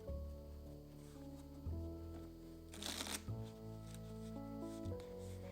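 Tarot cards shuffled steadily at close range, a continuous soft papery riffling with a brief louder burst midway, heard over quiet sustained background music.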